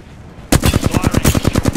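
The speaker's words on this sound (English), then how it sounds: "Firing. Being shot at." Rapid automatic gunfire in the video game Apex Legends, a loud close burst of about a dozen evenly spaced shots starting abruptly after a short quiet moment.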